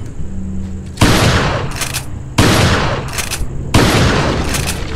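Gunfire in the game Resident Evil 4: three loud, close shots about a second and a half apart, each a sharp blast followed by a long reverberant tail, with no one talking.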